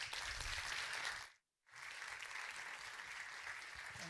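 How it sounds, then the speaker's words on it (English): Conference audience applauding a panel of speakers: a full, continuous round of clapping from a large room that cuts to a brief silence near the middle, then resumes just as strong. "So a round of applause for all four of those brilliant speakers, actually."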